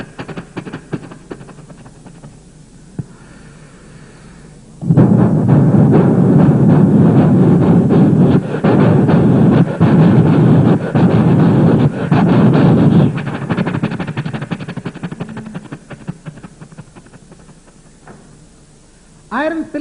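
A voice imitates a train crossing the Krishna barrage with its iron pillars. Loud, steady, rumbling vocal noise runs for about eight seconds after a quieter start, then fades away.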